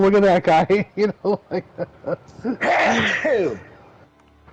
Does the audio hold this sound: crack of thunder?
no